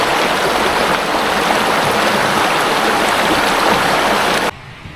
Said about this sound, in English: the sounds of the water